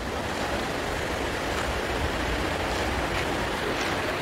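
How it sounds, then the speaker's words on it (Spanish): Swollen Río Limón in Aragua, running high with floodwater, gives a dense, continuous roar of rushing water, loud and close, steady throughout with no voices. "Este es el río Limón, aquí estamos subiendo la pasarela que cruza con el Limón hacia Mataseca."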